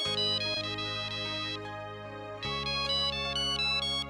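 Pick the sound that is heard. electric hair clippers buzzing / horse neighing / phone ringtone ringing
phone ringtone ringing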